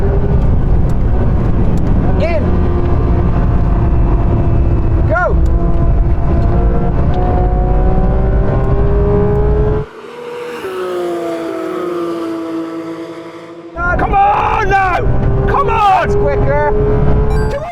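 A heavily modified Porsche GT3 RS runs fast on a race track. Its engine screams loudly and rises in pitch through the gears, with sharp upshifts and one brief lull, and someone talks over it.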